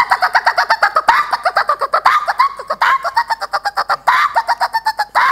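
A man imitates a koel's call with his voice, producing loud, rapid, repeated clucking bursts close to the microphone that sound more like a jungle fowl than a koel.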